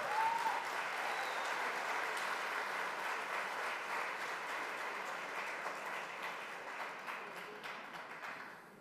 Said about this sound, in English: that got applause